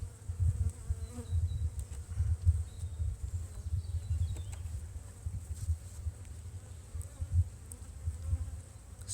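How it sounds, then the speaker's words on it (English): Honey bees hum at an open overwintered hive while boxes are handled, a steady low buzzing swarm drone with occasional nearer bees swelling and fading. "quite a few bees"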